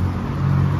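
A car passes along a roadside at night, a steady low engine and tyre rumble holding level for under a second with no voices.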